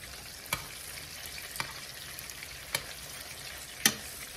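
Turkey meatballs frying in a pan make a steady soft sizzle, broken by a few sharp crackling pops spaced about a second apart.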